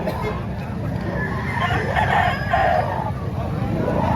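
A rooster crows loudly and close at a poultry sale, a drawn-out call over constant low rumbling background noise.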